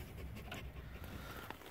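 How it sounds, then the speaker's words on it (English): A dog pants in quick, steady breaths close by, a soft rhythmic huffing with low background noise, beside a turbo Ford Ranger. "That's my dog Quinn."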